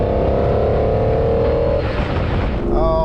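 A carbureted Ferrari 512BB engine revs loudly from close by inside the cabin, a rough rising roar that swells and then drops away, with a deep throbbing rumble underneath.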